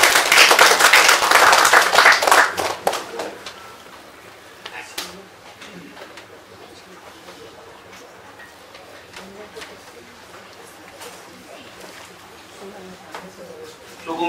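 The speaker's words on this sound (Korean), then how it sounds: "두 분을 위해서 박수 한번 보내주십시오" An audience at a book launch gathering claps loudly in a dense burst for the first few seconds. The applause then thins into a few scattered claps and taps in a quiet room.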